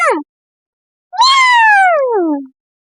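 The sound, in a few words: cat meowing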